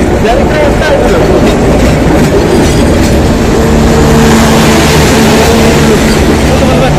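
A train rumbles loud and close past a street market in East Java, with steady clattering wheels and a sustained whine as the cars roll overhead.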